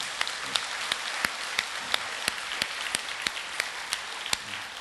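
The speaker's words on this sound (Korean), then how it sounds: "또한 함께한 모든 우리 성도들에게 우리 감사의 박수를 한번 우리 드립시다" A church congregation applauds in a steady wash of clapping, with sharp, evenly spaced claps punctuating the noise in a regular rhythm; the sound is moderately distant and continues without pause.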